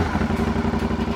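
An Aprilia Shiver 900 motorcycle engine runs close by at a steady, even idle, with a low pulsing throb and a light mechanical clatter throughout.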